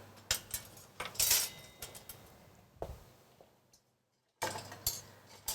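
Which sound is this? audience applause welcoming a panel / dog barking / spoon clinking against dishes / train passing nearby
spoon clinking against dishes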